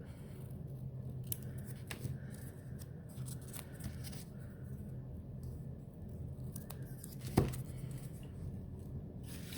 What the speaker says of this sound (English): I'm gonna cut another one round on the top and a stick straight line on the bottom